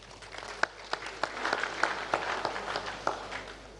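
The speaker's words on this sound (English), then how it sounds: "I think they deserve another round of applause." Scattered, moderately distant audience applause at a football association event, individual claps standing out in an uneven rhythm as it thins.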